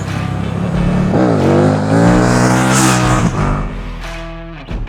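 A KTM 890 Duke R motorbike engine revs loud and close, its pitch rising and falling through several sweeping throttle blips before settling back toward idle.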